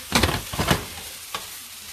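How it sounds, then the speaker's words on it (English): Food sizzles in a pan alongside a rice cooker, with a few short, hissing bursts as it is stirred, then a quieter simmer between them. "Meanwhile, mine is kind of like, it's sizzling."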